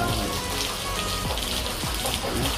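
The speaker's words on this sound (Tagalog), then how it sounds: "Ayan ang ulan." Rain falls on a street in Barcelona, Spain, as a steady, loud hiss of drops pattering on the pavement, with a few splashes and low passing rumbles underneath.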